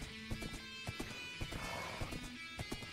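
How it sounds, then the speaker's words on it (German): Horse hooves clip-clop in a steady trotting rhythm in the Minecraft video game, fairly close, over a dense background of game music and ambience. "Ich versuche ja, das Pferd eigentlich sanft zu reiten"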